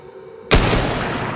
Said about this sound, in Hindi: तभी एक गोली चलने की आवाज़ कुछ पलों के लिए उस सन्नाटे को फिर से ख़त्म कर